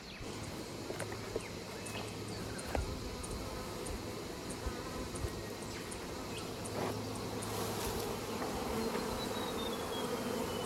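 A steady drone of many honey bees buzzing all around an open hive during honey harvesting in Australia, continuous and fairly close, with a few individual bees zipping past.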